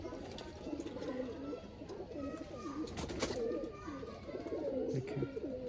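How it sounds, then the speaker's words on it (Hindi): Pigeons, a summer-tolerant flying breed, coo softly in repeated throaty phrases, one after another and fairly close, over a faint background hum. "ये परवाज के बादशाह कबूतर है"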